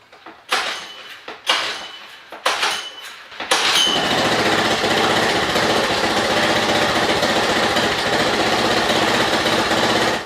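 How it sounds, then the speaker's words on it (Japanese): A Honda 2 hp outboard motor gets several sharp pull-start attempts, each a brief burst of cranking, before it catches and runs at a steady, loud, buzzing idle close by. "そしたらエンジンをかけていきます。"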